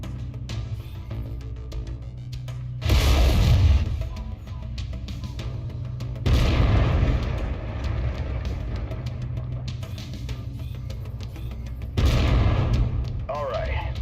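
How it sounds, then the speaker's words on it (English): Laser weapons fire from a mech in the video game MechWarrior 5 in three loud, sharp bursts a few seconds apart, each rising above a steady rumbling engine drone. "Lasers are mapped to Weapon Group 2. Fire them when ready."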